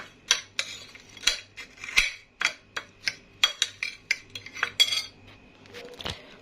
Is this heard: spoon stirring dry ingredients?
yes